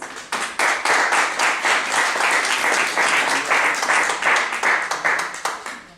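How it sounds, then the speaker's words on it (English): Sustained applause from a conference audience thanking a blockchain panel at Digital Davos 2020, dense steady clapping for about six seconds, loud and close, with no speech over it. "Let's give them a round of applause."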